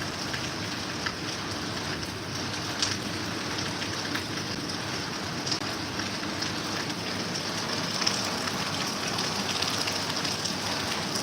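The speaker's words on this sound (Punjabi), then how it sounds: "ਫੁੱਲ ਮੀਂਹ ਪੈ ਰਿਹਾ ਅੱਜ" Heavy rain pours down steadily in Sangrur district, Punjab, a dense, even hiss of drops hitting surfaces that holds for the whole stretch with no voices.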